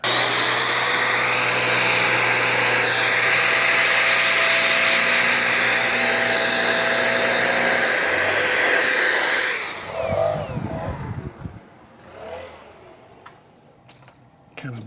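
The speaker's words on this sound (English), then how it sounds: "Put some air to it to get that excess off there." Compressed air blasts loudly and steadily onto a Lenovo Legion gaming laptop heatsink to clear dried thermal paste, a sustained hiss lasting about ten seconds before cutting off into quieter clicks and handling noises.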